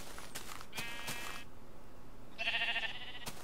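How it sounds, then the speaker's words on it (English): Pink sheep in Minecraft bleating, with a few short, fairly faint bleats spread across a quiet game background, no talking. "I've never seen a pink sheep before."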